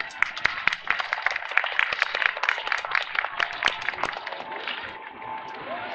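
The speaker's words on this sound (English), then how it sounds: "Please give them a round of applause." An audience gives a steady round of applause for a visiting Buddhist temple group, dense overlapping hand claps close by that carry on for several seconds and thin slightly toward the end.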